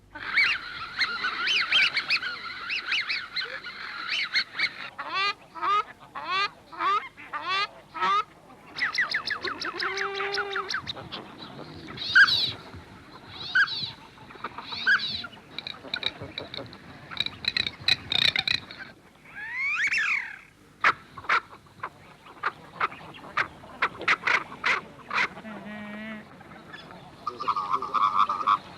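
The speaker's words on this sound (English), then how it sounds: "it gives you a fair idea of the variety of duck noises you can hear at Slimbridge" A long series of varied wildfowl calls at Slimbridge: honks, whistles, croaking and nasal notes from different ducks, some in rapid repeated bursts and others drawn out, fairly close and clear, with no talking.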